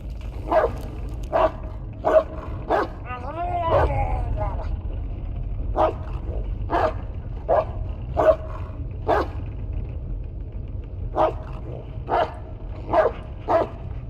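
Bullet the dog barks in the Blair Witch video game, a dozen or so sharp, evenly spaced barks with a brief whimpering whine partway through, over a steady low ambient rumble.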